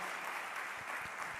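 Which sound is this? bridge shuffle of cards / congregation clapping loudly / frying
congregation clapping loudly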